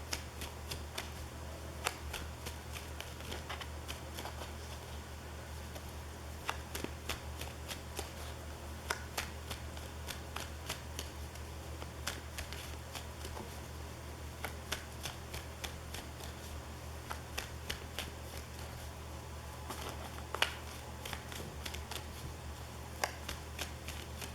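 Tarot cards are shuffled in a long, quiet run of soft riffling and flicking, a dense stream of small papery snaps with occasional slightly louder clicks.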